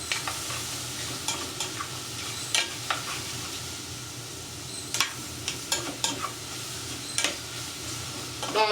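Mushrooms sauté in oil for risotto, hissing steadily in the pan while a utensil taps and scrapes now and then, close and moderately loud.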